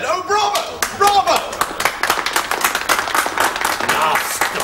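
A theatre audience breaks into loud, close clapping and applause, with sharp bursts of hand claps mixed with excited voices calling out throughout.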